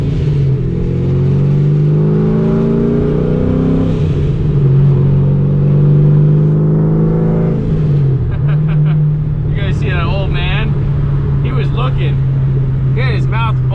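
A supercharged 800-horsepower C6 Corvette drones loudly from inside the cabin on the highway, its engine note holding a steady low pitch with a slight shift midway, while people talk over it.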